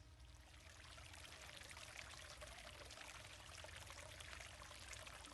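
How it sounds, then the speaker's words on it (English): Trickling river water in a video game, a steady broadband rush of flowing water that continues evenly and fairly loud throughout, with no other sounds. "Do you hear that trickling sound? It's a river."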